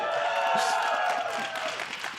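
Fans at the LCS playoffs cheer and applaud in a steady wash of crowd noise, with clapping and voices blending together at moderate loudness through the short moment.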